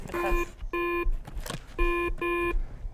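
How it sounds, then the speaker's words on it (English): Electronic memory game sounds a series of clear, loud tonal beeps in distinct bursts, each a steady pitched note with a pause between. "you got to touch wherever they beep, right?"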